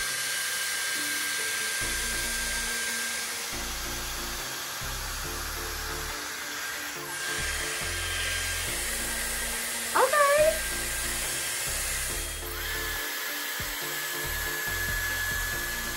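A Dyson Airstrait hair straightener runs in dry mode on already straight dry hair, giving a continuous close airflow whoosh throughout, with a brief higher tonal blip near the middle.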